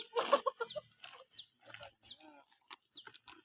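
Chickens cluck close by in short, irregular bursts with sharp rising calls spaced through the clip, heard alone over a quiet background.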